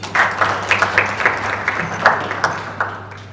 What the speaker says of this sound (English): I think she deserves another big round of applause.